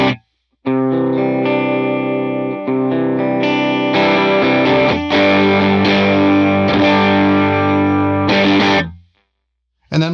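Electric guitar played through two distorted amps with a chorus effect, chords and single notes in a continuous phrase of about eight seconds, loud and close, then cutting off to silence.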